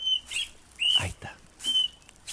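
An Austral thrush sings in spring, clear whistled phrases, three short bursts of bright notes with slurred, falling tones between them, fairly close and alone.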